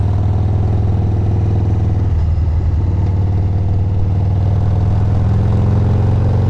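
A 2002 Harley-Davidson Sportster 883 flat tracker with a big-bore engine runs steadily close by, a loud, continuous low rumble with a brief change in tone partway through and no voices.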